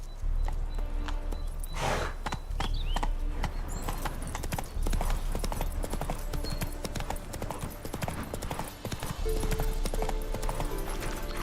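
Roach, Geralt's horse in The Witcher 3, trots with steady clip-clopping hooves throughout, close and rhythmic, with a brief whinny near the start and game ambience beneath.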